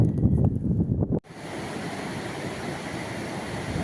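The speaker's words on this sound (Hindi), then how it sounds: "यह इस कोलार सरोवर का जल निकासी द्वार है। यहाँ से यह पानी छोड़ा जा रहा है" Water released through the outlet gate of Kolar dam roars as a steady, loud broadband rush that fills the scene after a brief break, with no voices.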